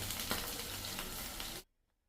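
Onion masala fries in a pan with a steady, close hiss and crackle for a moment before the sizzle abruptly cuts out into near silence.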